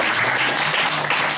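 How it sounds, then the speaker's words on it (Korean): Church congregation applauding a deaconess at a Sunday service, a dense, steady wash of clapping that fills the whole moment at close range. "우리 권사님한테는 박수 한번 쳐주세요"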